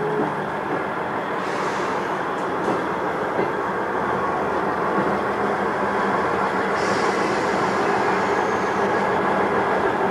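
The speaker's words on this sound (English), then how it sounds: "a networked southeast train from Paignton to London Waterloo pulls at the station to allow following HST to pass" A Network SouthEast train from Paignton bound for London Waterloo pulls slowly into Exeter station, its steady, loud rumble and wheel noise continuing without a break alongside a wash of station background.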